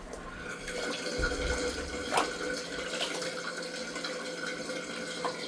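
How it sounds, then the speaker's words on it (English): Water drains out of a home sink after a bowling ball has been soaking and scrubbed in it, a faint, steady gurgling trickle with a few small sloshes and drips. "I'll go ahead and drain this water out."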